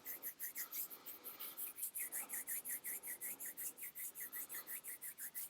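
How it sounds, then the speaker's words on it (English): Palms rubbing together briskly for a face massage warm-up, a close, soft rasping swish repeated in a steady back-and-forth rhythm of about four strokes per second, with no talking. "then what we do to start the face massage practice is rub our hands together."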